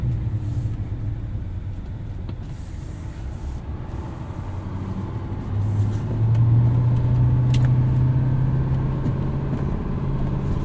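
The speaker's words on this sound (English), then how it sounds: "I love the sound of this Duramax." Steady low diesel rumble from a 2024 Chevrolet Silverado 2500HD ZR2 with the Duramax engine, heard from inside the cab while driving in two-wheel drive, swelling louder partway through with no talking.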